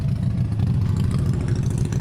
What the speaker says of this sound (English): that's a loud motorcycle